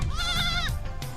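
A goat from a Mongolian family's herd gives one short, quavering bleat against a hum of outdoor background noise.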